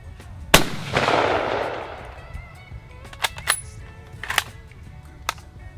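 A Peruvian Modelo 1935 Mauser rifle fires a single loud, close shot with a booming decay, followed by several sharp metallic clacks of the bolt being worked, with no talking.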